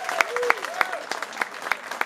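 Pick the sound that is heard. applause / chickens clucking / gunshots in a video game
applause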